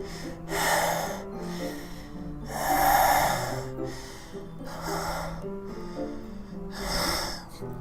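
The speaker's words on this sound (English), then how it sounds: "It sounds like breathing. A sharp inhale, like someone sucking air through their teeth." Sharp, hissing inhales through the teeth repeat in a slow rhythm, close and breathy, over a low sustained musical background in a video game.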